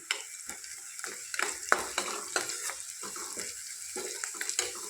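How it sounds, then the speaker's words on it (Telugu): A spoon scrapes and stirs through curry in a frying pan after turmeric goes in, giving soft, irregular scraping strokes over a faint sizzle, fairly quiet and close, with no voices. "ఇలా పసుపు వేసుకొని ఒకసారి కలుపుకుంది"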